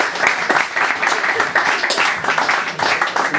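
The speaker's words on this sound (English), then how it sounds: "More applause, please, for Isabel." A live audience gives Isabel Bermudez sustained, loud applause, a thick wash of clapping with a voice briefly speaking over it.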